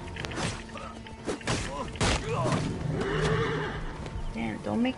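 A horse whinnies in the Assassin's Creed Origins video game amid hoof thuds and clip-clops, with game sounds and a player talking over the action.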